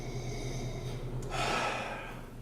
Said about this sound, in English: We also want to have a sniff on it.